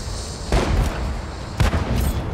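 Tank cannon firing in a tank combat video game, two sharp booming shots about a second apart, each with a short rumbling tail over steady engine noise.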